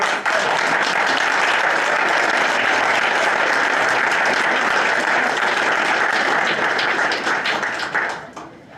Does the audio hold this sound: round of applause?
yes